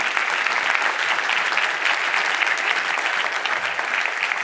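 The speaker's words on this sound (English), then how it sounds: "May I ask a collective applause for them?" Sustained applause from a large conference audience at the closing session of the Cycon 2024 event in Tallinn, a dense, steady clatter of many hands filling the whole stretch without a break.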